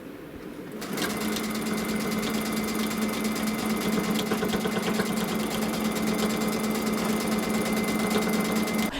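A sewing machine stitching decorative stitches over the seam of a quilted tree skirt, starting after a brief pause and then running steadily and fast with a loud, even mechanical hum and rapid needle clatter, with no talking.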